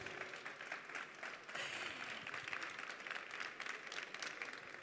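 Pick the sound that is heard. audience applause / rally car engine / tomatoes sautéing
audience applause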